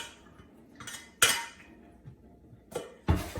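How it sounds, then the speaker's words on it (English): Boiled lentils being drained in a kitchen sink, heard as a few sharp metallic clanks and clatters of a pot or colander against the sink, separated by quiet gaps. "I'm just going to drain them in the kitchen sink"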